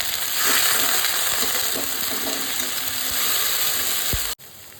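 Onion-garlic masala sizzles steadily in a pan for a pointed gourd and prawn curry while stirring scrapes along, ending in a sudden splash and hiss as a little water goes in, with the frying then dropping lower.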